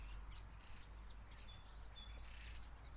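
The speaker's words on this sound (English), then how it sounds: "I found the starlings." Starlings calling near a winter hedgerow, a faint scatter of high chirps, whistles and twittering calls over a low background rumble, continuous through the short stretch.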